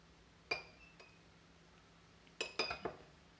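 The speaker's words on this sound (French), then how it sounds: "je vais rajouter environ 5 cuillères à soupe d'eau" Spoonfuls of water added to quiche pastry dough, heard as a few faint, sharp clinks of a spoon against a bowl, one early and a quick cluster of three near the end, with quiet room background.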